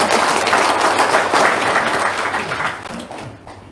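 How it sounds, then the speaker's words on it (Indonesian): An audience applauds at a testimonial talk in Indonesia, a dense burst of clapping that starts loud and then fades away over a few seconds. "Tepuk tangan dong."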